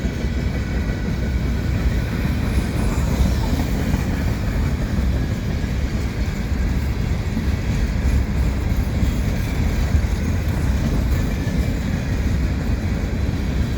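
A CP mixed freight train with 2-bay oxide-red hopper cars rolls past steadily at close range, a continuous loud low rumble of wheels and cars with no gaps and no talking.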